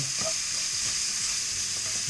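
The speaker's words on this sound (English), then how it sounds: "the veggies are sizzling away" Steady, close sizzling and hissing of vegetables frying in a hot pan for a Shin Ramyun stir-fry, continuous and even with faint stirring scrapes underneath.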